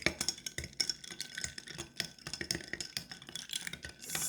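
A spoon stirs Vietnamese iced coffee with sweetened condensed milk and ice in a glass, giving quick repeated clinks and rattles close up in an uneven rhythm, with no voices.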